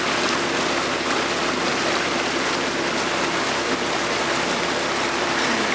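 Choppy lake water sloshing steadily under a rising wind ahead of an approaching storm, a dense, even wash of noise that holds constant throughout.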